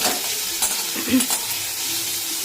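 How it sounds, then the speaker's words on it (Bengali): Onion and carrot fry in a pan with a constant close sizzle, broken by a few brief stirring scrapes and taps. No voices are heard. "দেখো মা ভাজছে পেঁয়াজটা, আর ওইদিকে গাজরটাও ভাজা হচ্ছে।"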